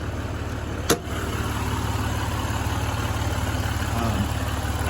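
The diesel engine of a 2016 Ram 1500 EcoDiesel with an AFE air filter idles with a steady low rumble and some turbo sound, close by, broken once early by a brief sharp click.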